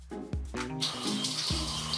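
Water runs steadily from a shower in a broad, continuous hiss lasting the whole moment, with a few low thumps and brief tonal swells near the start.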